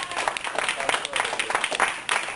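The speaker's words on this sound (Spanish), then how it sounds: "Yo que usted le diera un aplauso rotundo a Dios." Church congregation clapping during a Sunday sermon, a dense burst of applause with crowd noise and voices mixed in, steady and fairly loud.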